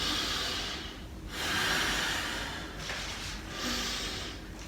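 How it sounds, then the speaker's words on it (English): Slow, deep breathing during seated chair stretches: three long, audible inhales and exhales with soft hissing air, close and calm. "Let's take a few breaths. Inhale, reach up. Exhale and out."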